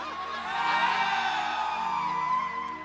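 Crowd at a Bhojpuri stage show with a dancer, yelling, whooping and cheering together in a loud, sustained roar that swells and holds for several seconds.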